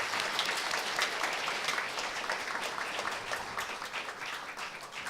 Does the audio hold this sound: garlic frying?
no